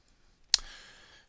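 A single sharp computer mouse click on a settings gear icon in the Concrete5 web editor, close and crisp, followed by a brief faint tail and otherwise quiet surroundings.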